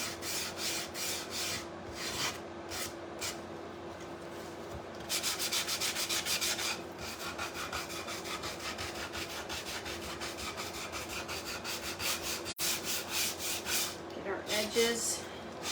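Sandpaper rubbing along the edges of a small wooden church model, steady scratchy strokes in bursts with brief pauses, close and fairly quiet.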